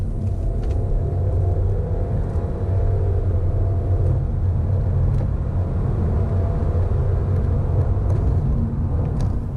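A 2017 Audi A4 Avant accelerating hard in a 30 to 70 sprint, heard from inside: a loud, continuous low engine rumble and road drone that builds steadily, with faint ticks and no talk.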